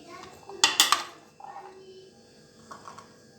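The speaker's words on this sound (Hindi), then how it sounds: "सबसे पहले हम चने डालेंगे" Chickpeas are spooned onto a plate for chaat, giving a few sharp clinks and taps close by, followed by softer scraping, as someone talks.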